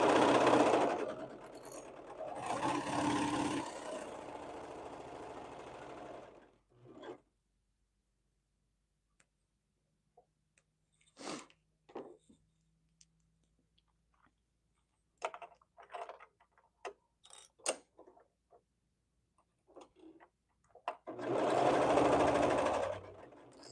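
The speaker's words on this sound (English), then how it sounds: "now we're going to stitch our shoulder seams" A sewing machine stitches sweater shoulder seams in two steady whirring runs at the start and end, with scattered soft clicks and handling taps in the quiet between.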